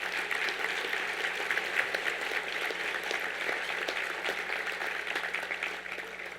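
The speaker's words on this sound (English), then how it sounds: "Will you give them a round of applause?" Audience at an award event live stream applauds the sponsors, a dense, even wash of clapping that holds steady and fairly loud for the whole stretch before easing slightly at the end.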